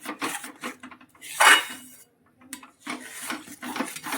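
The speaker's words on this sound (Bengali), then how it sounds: "অনবরত নেড়ে ভালো করে সুন্দর করে মিক্স করে নিই।" Mango sandesh mixture stirred in a pan, a sequence of close scraping and rubbing strokes with a spoon against metal, one louder grating sweep in the middle, then short pauses before the strokes resume.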